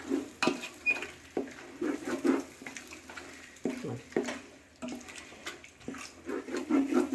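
A pot of fish biryani masala is stirred with a metal spoon, giving repeated scraping and clinking strokes against the pot, close and moderately loud, with a wet, thick mixing sound and no talk.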